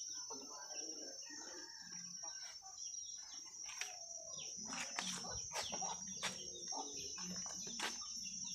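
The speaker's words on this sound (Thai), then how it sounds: "ไก่ก็ยั่วอยู่แถวนี้ฮัช" Chickens clucking close by, a series of short irregular clucks and squawks with a faint crow, over a high steady insect or bird tone in an outdoor yard.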